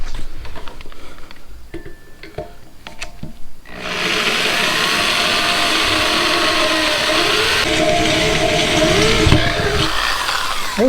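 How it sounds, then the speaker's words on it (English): A power drill bores through metal lubricated with 3-in-1 oil while fabricating a hidden winch mount for a Jeep WJ. After a few quiet seconds it kicks in as a loud, steady, grinding whine that runs to the end. "the drill that just won't die"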